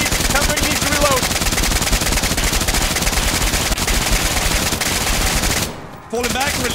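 Dense, sustained automatic gunfire fills a co-op shooter game battle, loud and close, with a short pause before it resumes and shouting voices mixed in.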